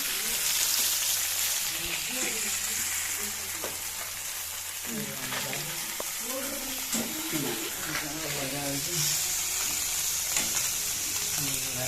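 Fish from a village stream fries in hot oil in a home kitchen, giving a steady loud sizzle and crackle throughout while a person talks over it.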